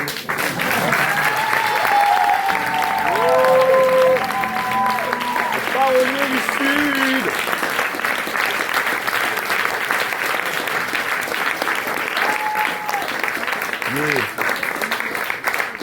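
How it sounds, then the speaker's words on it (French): A live audience applauds steadily at a French poetry-and-song performance. The clapping is loud and sustained throughout, while someone speaks over it with brief sung or voiced tones early on. "C'est le moment d'applaudir."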